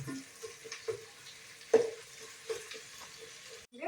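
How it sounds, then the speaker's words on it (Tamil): Onions sautéing in ghee in a pan, a low steady sizzle broken by a few sharp scraping stirs of a spoon, close and moderately quiet, with no talking. "வெங்காயத்தை எல்லாரும் வதங்கிட்டோம். அப்புறமே தக்காளி போட்டுக்கலாம்."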